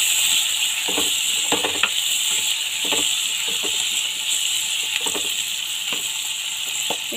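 Tomatoes frying in a pan for a curry, a steady bright sizzle throughout with irregular soft clicks and stirring taps scattered across it.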